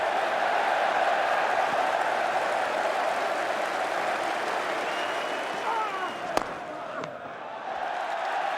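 A large cricket crowd at The Oval during the fifth Ashes Test of 2005 applauds in a dense, continuous roar, with the clapping holding steady throughout and a sharp crack near the end.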